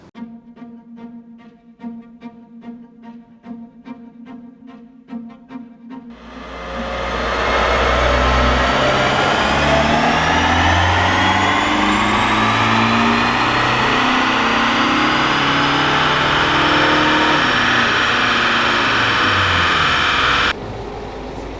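A 190 hp diesel car, with its EGR valve and cooler recently replaced, revs on a dynamometer: a loud, sustained engine roar climbs steadily in pitch, then cuts off sharply near the end after a quieter, tonal opening.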